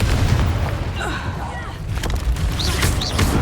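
Fire spell bursts in the Hogwarts Legacy video game, heard as several booming, crackling blasts in quick succession over a busy game soundscape with a voice.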